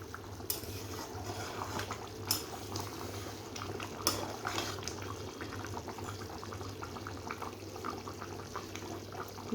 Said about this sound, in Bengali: দেখো বলক উঠে গেছে